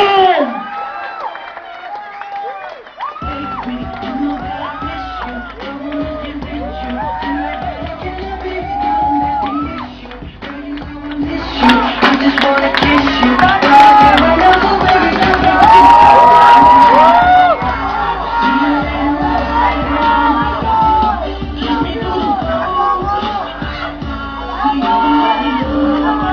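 Loud crowd cheering, shouting and whooping at a live comedy show, sustained for the whole stretch and swelling in the middle, with voices talking and yelling over it.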